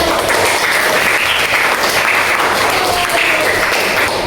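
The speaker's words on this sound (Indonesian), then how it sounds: "Tepuk tangan." A classroom of Islamic religious education pupils claps together on the teacher's cue, a dense, steady burst of applause holding at full loudness throughout with no talk over it.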